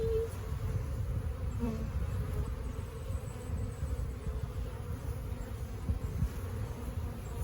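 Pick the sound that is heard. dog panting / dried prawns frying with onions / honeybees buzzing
honeybees buzzing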